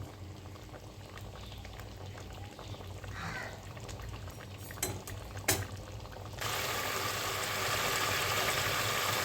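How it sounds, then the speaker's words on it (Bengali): Water for a hilsa fish curry bubbles steadily in a pot, with a soft continuous rolling boil and a few faint utensil clinks. Partway through, the boil swells into a louder, fuller hiss that carries on to the end. "জলটা ফুটছে"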